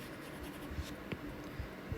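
Dry eraser rubbing across a classroom board during a geometry lesson, a soft steady scrubbing with a few brief squeaks, close and fairly quiet, with no one talking.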